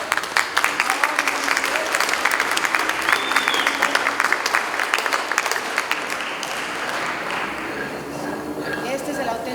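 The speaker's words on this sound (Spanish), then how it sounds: "Un aplauso, por favor." An audience at a chocolate and cacao workshop breaks into dense, lively clapping that holds steady for several seconds before thinning slightly, with some voices mixed in.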